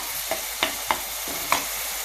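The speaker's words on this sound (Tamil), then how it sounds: "இஞ்சி பூண்டு விழுது போட்டுக்கலாம். நல்லா வதக்கி விட்டுக்கோங்க." Ginger garlic paste sautés in a pan for a chicken coconut curry, a steady close sizzle broken by four quick scraping stirs of a utensil.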